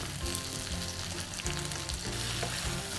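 Oil sizzles and crackles steadily in a pan of Kerala-style beef fry cooking over a low simmer, a dense, close frying sound with faint stirring clatter throughout.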